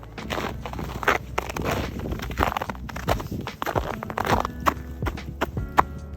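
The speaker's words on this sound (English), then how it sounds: "Look at how crunchy this ice is." Footsteps crunch and crackle over brittle ice, a steady run of sharp, close crunches and scrapes with no talking.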